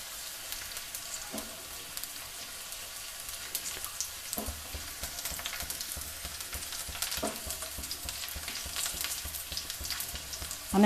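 Momo filling frying in a pan until brown, a faint steady sizzle with occasional light stirring scrapes, no talk.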